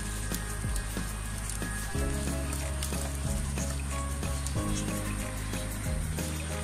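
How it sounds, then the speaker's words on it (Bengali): Mustard oil sizzles in a hot pan while onion and dried chilli are prepared for okra bhorta, a steady crackling hiss with a few low thumps running throughout. "এর মধ্যে আমি সরিষার তেল দিয়ে দিচ্ছি"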